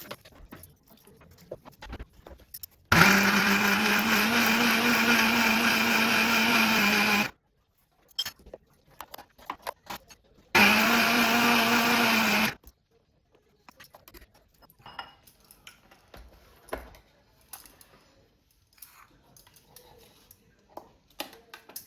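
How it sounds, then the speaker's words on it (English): A loud, steady whirring drone of a blender grinding a sautéed mixture into a fine paste for malai kofta, running in two bursts of several seconds each with a short gap, set among quieter clicks. "Transfer the sauteed mixture into a blender jar and grind it into a fine paste"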